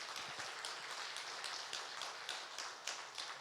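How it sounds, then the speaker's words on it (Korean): Church congregation clapping during a Sunday afternoon praise service, a dense steady wash of many hands that carries on evenly throughout with a few sharper claps standing out. "우리 집사님들과 권사님 모든 분들을 위해서 큰 박수 하겠습니다."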